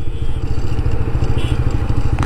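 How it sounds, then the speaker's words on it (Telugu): A 160cc motorcycle with dual-channel ABS sits at a highway toll gate, its engine producing a close, steady, pulsing idle thrum with faint clatter. "India's most powerful 160cc motor cycle with dual channel ABS."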